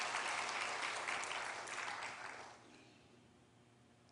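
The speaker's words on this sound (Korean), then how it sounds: "우리 다시 한번 박수 한번 보내주시기 바랍니다." A church congregation gives a burst of applause after a musical performance during a Sunday service, the clapping loud at first and fading away over a few seconds.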